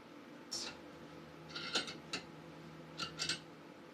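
A socket wrench ratchets faintly on a cylinder head during a Foxbody 351W engine rebuild, with a few short clicking bursts spaced a second or so apart.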